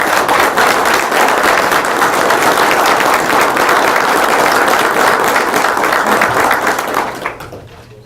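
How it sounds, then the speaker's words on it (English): Audience at a city council meeting applauding, a dense, loud burst of many hands clapping steadily for about seven seconds before fading out quickly at the end. "Can we give them a round of applause?"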